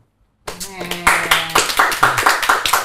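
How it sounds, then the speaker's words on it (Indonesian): A burst of hand clapping starts after a short silence, with a voice calling out, then settles into steady rhythmic claps. "Tepuk tangan."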